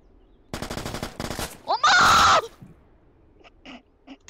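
Gunfire in a Roblox war video game: rapid bursts of automatic shots, then a harsh louder blast and a few scattered fainter pops trailing off.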